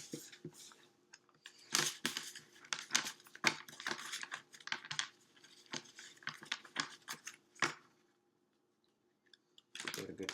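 A deck of playing cards being shuffled by hand, bursts of rapid riffling clicks and flutters with short pauses between, close and fairly quiet, ending in a moment of silence before another riffle.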